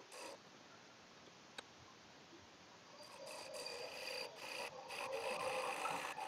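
A 3/8 spindle gouge cuts a wooden segmented birdhouse spinning on a lathe, giving a steady scraping, rasping hiss that grows louder and brighter toward the end, with no talking.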